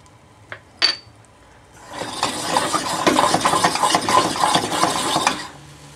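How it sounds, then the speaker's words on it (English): Garam masala, cumin and coriander hit a hot pan and fry, a busy crackling sizzle that rises after a couple of sharp clinks and holds steady for several seconds before cutting off, with no voices. "You give that a swirl and let it fry for a little bit."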